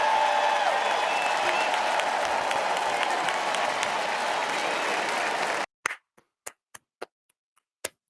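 A large convention crowd at the Republican National Convention roars and applauds in a loud, dense, sustained wash, then cuts off abruptly, leaving a few sharp, isolated claps or ticks spaced out in near silence.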